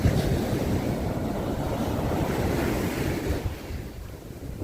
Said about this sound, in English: I love the sound of the waves